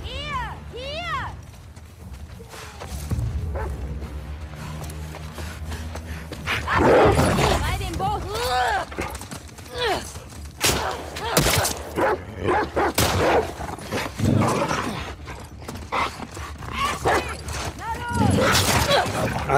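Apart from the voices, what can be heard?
dog barking in video game The Last of Us Part 2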